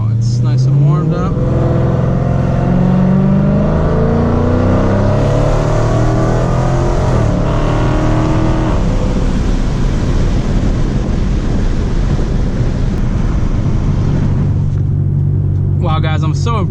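A warmed-up Dodge Challenger engine pulls hard, a deep rising roar building over several seconds, then easing back to a low idle rumble near the microphone.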